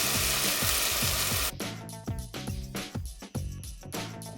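Coconut milk poured into a hot pan for a pineapple cashew curry sets off a loud, steady sizzle, which then breaks into uneven bubbling with stirring scrapes and pan knocks.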